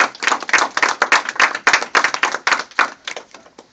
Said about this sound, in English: let's get a big round of applause for our newest youth on force.